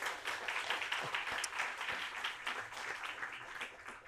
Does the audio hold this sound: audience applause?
yes